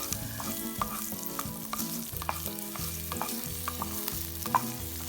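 Garlic, cumin seeds and dried red chilies frying in oil for a peanut chutney, a continuous close sizzle with light stirring scrapes and small pops throughout, no talking.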